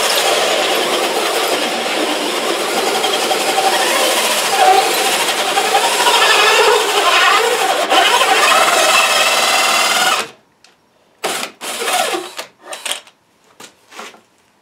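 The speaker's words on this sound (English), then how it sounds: "So I'll finish drilling the rest out." A steady, loud whirring drone of a power drill boring through PVC runs for about ten seconds, then cuts out, leaving a few brief clunks and rustles.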